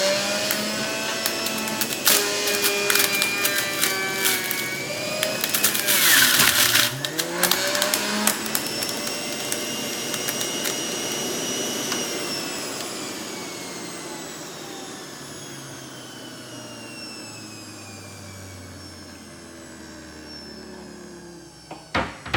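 A juicer grinding through beets and celery with a loud, steady motorized whine and crunching pulp, running continuously up close before winding down near the end.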